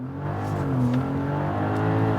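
A BMW X3 M50 on winter tyres launches hard on a wet road with two people aboard and a full tank. Its engine note is loud and close, holding a strong, steady roar that rises as it accelerates.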